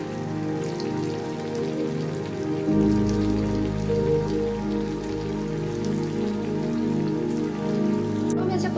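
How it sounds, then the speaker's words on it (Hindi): Small potato and rice flour bites fry in hot oil until golden brown and crisp, giving a loud, continuous crackling sizzle that swells in intensity partway through, close and with no voices. "गोल्डन फ्राई करना है, गोल्डन ब्राउन तक होने, क्रिस्पी होने तक ब्राउन कर लीजिएगा।"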